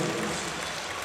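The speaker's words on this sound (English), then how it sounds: "The crowd is clapping for the other platform because they are battling for a total gold medal." Audience applause at a world classic powerlifting championship, a dense steady patter of many hands clapping across a large hall, brief and fairly loud.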